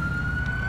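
A steady ambulance siren wails continuously in GTA IV, a single sustained tone held at a consistent pitch, loud and close with no voices over it.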